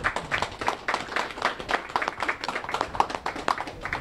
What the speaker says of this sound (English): give a round of applause for these guys for coming out today